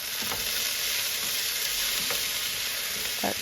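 Potatoes and carrots sautéing in a pan give a loud, continuous close-up sizzle, with a few sharp stirring scrapes spread out over it. No speech.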